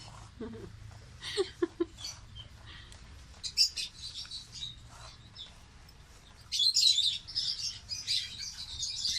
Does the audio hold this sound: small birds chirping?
yes